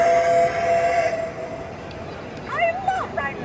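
A toy train at a toy fair plays a loud, close train whistle for about a second, then a recorded voice speaks through its small speaker.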